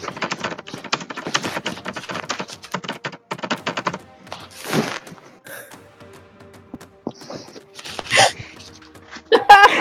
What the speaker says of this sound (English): This is super typing.